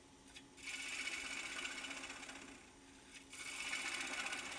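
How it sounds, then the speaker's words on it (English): A bowl gouge cuts a small cherry wood calabash bowl on a lathe, giving a faint, steady whirring scrape that drops out briefly twice and resumes, with no voices. "Should be just about done with this bowl gouge."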